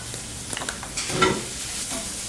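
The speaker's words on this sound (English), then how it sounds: "Saute over low heat until it becomes aromatic." Scallion, minced ginger and dry chili sauté over low heat in a pan, a soft sizzle under a few scraping stirs that rise briefly midway before settling back to a gentle fry.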